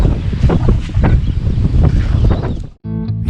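Loud, gusty winter wind at a carp fishing lake buffeting the microphone in a steady roar, cutting out abruptly near the end.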